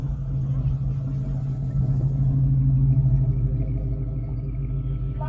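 A right-hand-drive converted Jeep Cherokee at a classic car and hot rod festival idles with a steady low burbling rumble, close and continuous, with crowd murmur and speech faintly in the background.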